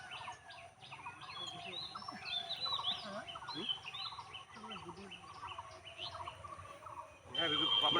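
Two birds perched on a rooftop on a foggy village morning give repeated quick chirps and calls at moderate distance, with a person talking quietly alongside.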